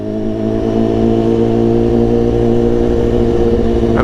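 A BMW S1000 motorcycle engine drones steadily while riding, a loud, close, continuous hum with no break.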